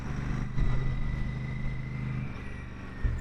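A Royal Enfield Super Meteor 650 motorcycle rolls on and off the throttle during a ride, giving a steady low engine drone and rumble with slight swells in loudness.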